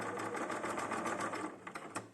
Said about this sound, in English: Back to the sewing machine.